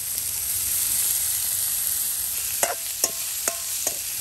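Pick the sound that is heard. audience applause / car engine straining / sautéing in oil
sautéing in oil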